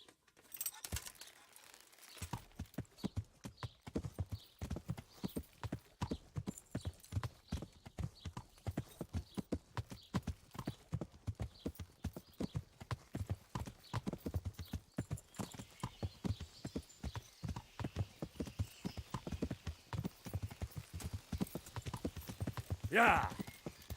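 Steady clip-clop of a horse's hooves trotting at an even pace for a long stretch in the video game Kingdom Come: Deliverance, close up, with a brief louder rustle near the end.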